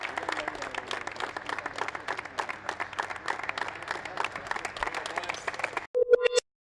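A crowd gives sustained, steady applause honouring a beloved basketball club figure named Tonecho, dense clapping for about six seconds before it stops and a few beeping electronic tones follow.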